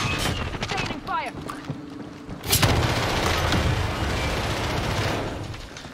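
Gunfire in a video game: a burst of rapid shots followed by a loud blast and a rolling, windy rumble, with some speech.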